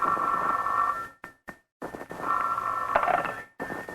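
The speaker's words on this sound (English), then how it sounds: "the next morning, the phone rang early" An old-time radio drama telephone rings in two long electric bursts separated by a short gap, loud and close, with no speech over it.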